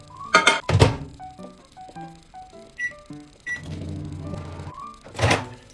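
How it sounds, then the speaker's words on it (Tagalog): A microwave oven melting butter for homemade waffles: a few door thunks and short keypad beeps, then a steady low running hum for about a second before another close thunk. "So, para mas mabilis matunaw, i-microwave natin."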